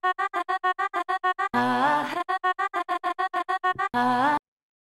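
A vocal loop from Splice plays back, a rhythmic run of short chopped sung syllables broken by two longer sustained vocal phrases, clean and up close, with no talking over it.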